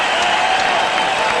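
Basketball arena crowd noise at a 1995 playoff game as a player fouls out and sits down, a dense, steady roar with scattered clapping that fills the whole moment.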